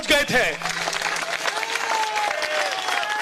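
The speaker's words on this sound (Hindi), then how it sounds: "आप तमाम साथियों से रिक्वेस्ट है, एक जबरदस्त ताली हो जाए" An audience at a political speech breaks into loud, dense applause, continuous clapping that swells and holds, with a voice briefly over it at the start.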